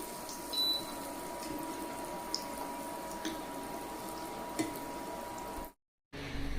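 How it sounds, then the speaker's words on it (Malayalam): Chicken paneer balls deep frying in hot oil give off a steady, close sizzling hiss with scattered small pops, cutting out briefly near the end before resuming. "ഇതുപോലെ തന്നെ അടുത്ത 4 എണ്ണവും വറുത്ത് പോരാം."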